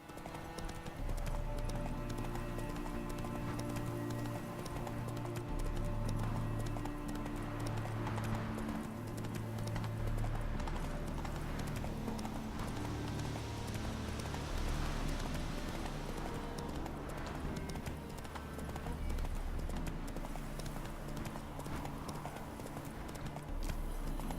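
Horse hooves clip-clop steadily as a rider travels in The Witcher 3, a continuous rhythmic trot over ambient music and game sounds.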